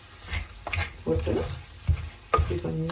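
Chilli powder stirred into mutton curry simmering in a pot as the liquid reduces, Jaffna style, with soft scraping spoon strokes over a low sizzle, several close stirs at an uneven pace.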